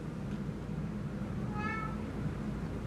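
A pet house cat gives a single soft meow, brief and fairly faint, over a steady low background hum.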